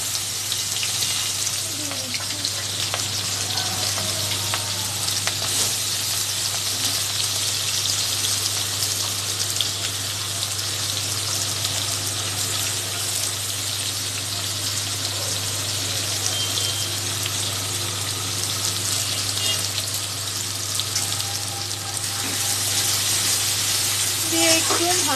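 Onion and green chilli frying in oil for a pomfret fish curry, a dense, even sizzle that holds steady and loud close by throughout, with occasional faint speech under it.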